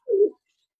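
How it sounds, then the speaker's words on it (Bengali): A single short coo from a pigeon in a loft, close and clear against silence. "আমি কবুতরটা একটু ছেড়ে দেখাইতেছি আপনাদেরকে।"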